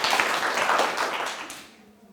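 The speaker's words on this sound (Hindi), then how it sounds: "तो इनके लिए एक बार जोरदार तालियां हो जाएं" A studio audience at a Hindi quiz game show applauds a correct answer, a short burst of clapping that fades out over about two seconds, with no voices.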